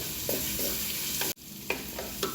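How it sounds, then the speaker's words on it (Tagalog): Carrot pieces are stir-fried in a pan with a steady sizzle, punctuated by several soft scraping stirs and one brief abrupt cut-out midway, close up with no talking. "Ilalagay ko na po yung carrots."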